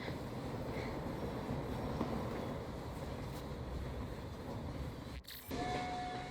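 A train in Assassin's Creed Syndicate rumbles along steadily at moderate volume, with a brief sharp clatter near the end before the running noise resumes.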